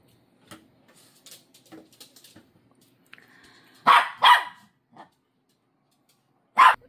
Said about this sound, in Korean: 저 짖는 소리가 들리면 요 녀석입니다.